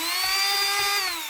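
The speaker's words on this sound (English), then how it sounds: "if you have a powerful enough drill or Dremel, you can stick this in there just a little bit and then start it up" Power drill or Dremel spinning up on a PodMod poi capsule, a close, loud whine holding a steady high pitch for about a second, with a low rattling pulse underneath before it trails off.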